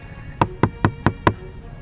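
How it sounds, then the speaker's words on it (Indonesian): Five evenly spaced, solid knocks on the fully sound-insulated door of a Toyota Innova, with a muffled, dull thud to each one. "Pas kalian ketok-ketok pintunya"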